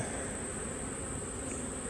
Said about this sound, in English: Hopefully we've got enough bees in these hives.